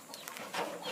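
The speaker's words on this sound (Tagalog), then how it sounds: "Ayan na, oh, yung mga manok." Chickens on a farm cluck and call in a short burst, several birds close by with overlapping clucks and chirps.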